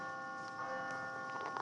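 A bell rings a few times over a low steady hum, the tones clear but not loud, with faint ringing harmonics lingering between strikes.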